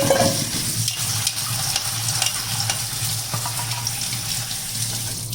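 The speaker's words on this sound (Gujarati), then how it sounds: "આપણે ચણાને 2 થી 3 પાણીએ ધોઈ કાઢવાના છે।" Green chickpeas being rinsed in a bowl under a running kitchen tap, a steady close splashing and trickling of water with light stirring of the wet peas, continuous and alone.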